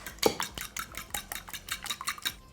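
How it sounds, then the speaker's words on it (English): Eggs being whisked in a bowl by hand, a quick run of light, regular metallic clinks and scrapes at close range, with no talking. "When you're whisking eggs, make sure to keep your wrist nice and loose,"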